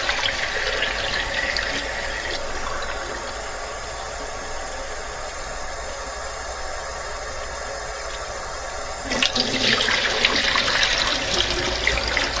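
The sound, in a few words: film rinsed in cold running tap water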